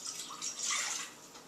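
A cup of water poured into a mixing bowl while making a shoofly pie, a brief close splashing trickle that swells and fades.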